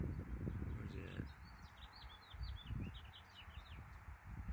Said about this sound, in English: Hey, Mr. Bird.